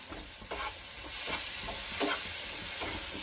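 Whole garam masala spices frying in hot oil with a continuous close sizzle, broken by several rhythmic scraping stirs spaced roughly half a second apart, no voices.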